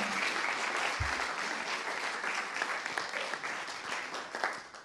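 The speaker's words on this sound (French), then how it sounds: "la salle vous applaudit" A conference audience applauds a speaker after a presentation on BlaBlaCar's entrepreneurial story. The applause is steady and sustained from a sizeable crowd for about five seconds, with no talk over it.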